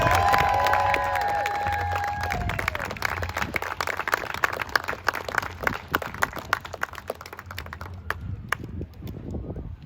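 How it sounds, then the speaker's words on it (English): A crowd applauds and cheers loudly, clapping dense at first and thinning to scattered claps before fading out near the end. "Come on, everybody, let's give him a round of applause."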